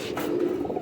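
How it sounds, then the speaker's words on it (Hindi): Fakirgul pigeons coo in a low, soft, rolling call, close by and steady for under a second, with faint background noise and no speech. "ये हैं फ़कीरगुल कबूतर मुख्तलिफ़ रंगों के साथ"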